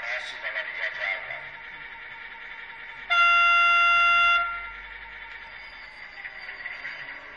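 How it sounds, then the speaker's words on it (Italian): An E636 electric locomotive hauling a freight train through a station sounds a loud, steady multi-tone horn blast lasting over a second, rising abruptly above a murmur of station ambience and fading back into it. "treno merci in transito sul binario 2"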